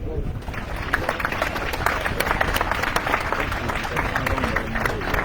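Crowd applause for volunteers at a youth world championship event in Romans-sur-Isère, steady rapid clapping throughout with a voice speaking over it and crowd murmur underneath.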